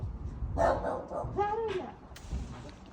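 A dog gives a couple of short barks and a whiny yelp nearby, with a bit of background noise in between.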